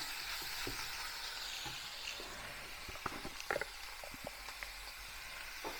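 Prawns sauté with turmeric powder and salt in a pan for Kerala-style konju theeyal, a steady frying hiss broken by scattered spatula taps and scrapes.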